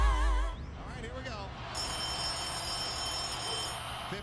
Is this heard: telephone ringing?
yes